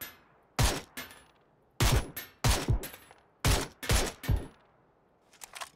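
Several loud gunshots in the PUBG battle royale game, fired as single sharp cracks and short bursts with pauses between them, each ringing out briefly, with fainter shots near the end.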